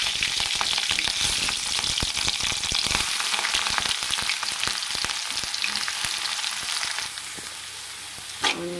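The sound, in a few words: onions and green chillies frying in a pan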